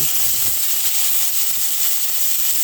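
Tomato sauce with garlic poured into a hot pan, filling the space with a loud, steady, hissing sizzle that holds evenly throughout.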